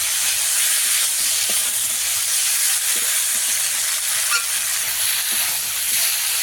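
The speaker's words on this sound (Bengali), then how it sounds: "সব কিছু ভালোভাবে কষিয়ে নেব।" Tangra fish with potatoes and peas sautés in a pan, giving a loud, steady frying hiss throughout with a few faint clinks of stirring, and no talk.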